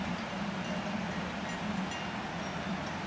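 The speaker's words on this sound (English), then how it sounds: "All the time I could hear in the background some trains." Trains rumble in the background at a railway station in Graubünden, Switzerland, a steady low drone with a faint hum that stays even throughout.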